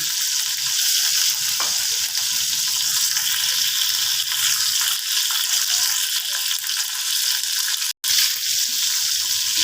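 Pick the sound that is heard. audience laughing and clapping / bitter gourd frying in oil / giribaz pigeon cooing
bitter gourd frying in oil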